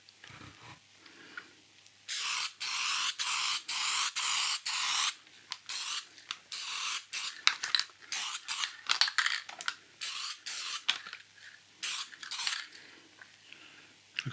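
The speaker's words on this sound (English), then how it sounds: "I've got some clear satin spray to put on here" Clear satin spray finish hisses from an aerosol can onto the stained wood of a 1972 Hacker RP73 being rebuilt, in a long run of loud, close bursts separated by short pauses.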